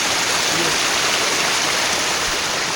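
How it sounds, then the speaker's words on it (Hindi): Water running out of the ground beside the path near Bruti Waterfall in the Margalla Hills, Islamabad, heard as a steady, close, broadband rushing wash that holds even throughout, with no voices. "ये देखें ये ज़मीन से पानी आ रहा है।"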